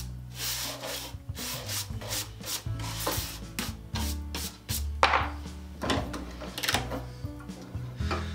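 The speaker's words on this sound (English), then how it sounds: "Still got life in the sandpaper." Sandpaper scrapes in repeated back-and-forth strokes while flattening a hand plane body on a flattening station, a close rhythmic rasping with brief pauses between passes.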